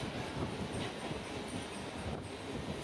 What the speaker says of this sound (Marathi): फास्ट ट्रेन होती त्यामुळे थोडी लवकरच ट्रेन आलेली आहे.